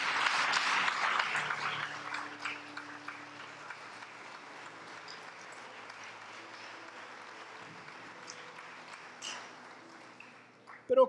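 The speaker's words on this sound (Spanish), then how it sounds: "Démosle un aplauso al Señor." A church congregation applauds the Lord in a burst of clapping that is loudest at first, then thins into scattered claps and a soft hum of the room before quiet returns.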